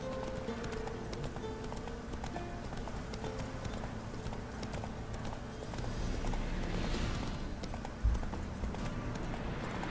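Steady rhythmic clip-clop of horse hooves at a brisk pace throughout in The Witcher 3 video game, with a single thump near the end, no talking.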